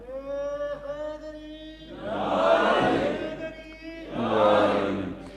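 A single voice at a Ghadir sermon leads, then the congregation answers with two loud, massed chanted slogans, each surging and swelling for about a second and a half.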